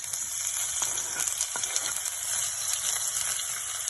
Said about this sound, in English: As soon as we see that the oil is getting hot, we throw the onion and wait for it to turn golden